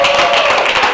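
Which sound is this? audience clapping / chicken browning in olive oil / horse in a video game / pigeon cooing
audience clapping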